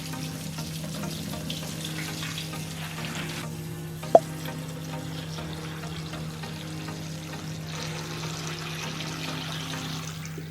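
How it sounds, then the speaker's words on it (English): Water runs and swishes steadily as lentils are rinsed in a sink, with a single sharp clink midway and a brief surge of splashing later. "So what I do next is I rinse them off and I drain them"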